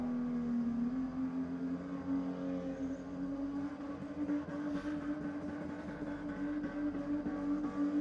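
A VX drift car at Sydney Dragway holds a steady engine drone at some distance, with a sustained tone and light tyre-scrub texture throughout.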